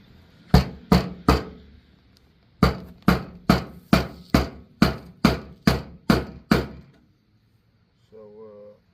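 A hammer strikes a Chevy Caprice fuel sending unit, probably driving a flathead screwdriver. Two sharp metallic blows come first, then a steady run of about ten evenly spaced loud hits after a pause, followed by a brief murmur.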